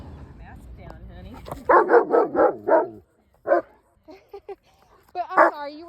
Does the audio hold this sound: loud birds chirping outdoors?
no